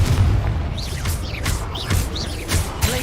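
The Confringo spell in Hogwarts Legacy sets off a string of booming fiery blasts, several deep bursts in quick succession with crackling, whooshing effects between them.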